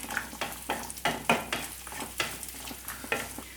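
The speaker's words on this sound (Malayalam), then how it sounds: "ഇതും കൂടെ നമുക്കൊന്ന് ഫ്രൈ ചെയ്തെടുക്കാം." Cashew nuts and raisins frying in a pan for a Kerala chicken stew, with rhythmic stirring scrapes and steady sizzling close up, repeated strokes roughly every half second, no voices.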